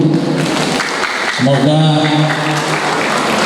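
Audience clapping for midwives at an Indonesian Midwives Association anniversary ceremony in Tanah Bumbu, a steady loud patter of many hands with a voice speaking over it through a sound system.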